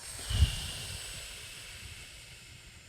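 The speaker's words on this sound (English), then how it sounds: "Hold those thoughts there and breathe them out the straw." A person breathes out slowly through a straw, making a soft, airy hiss that starts with a brief puff and then trails off steadily for a few seconds, close to the microphone.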